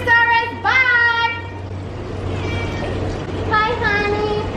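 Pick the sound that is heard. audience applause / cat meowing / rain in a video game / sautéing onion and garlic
cat meowing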